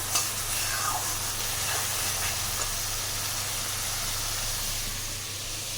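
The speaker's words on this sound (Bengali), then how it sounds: "এখানে আমি মশলাটা কষিয়ে নিচ্ছি আর ফোড়নে দিয়েছিলাম দারচিনি লবঙ্গ তেজপাতা এলাচ" Masala sizzles in a pan over a tempering of cinnamon, clove, bay leaf and cardamom, a constant close hiss of frying with a few faint scraping stirs near the start and nobody speaking.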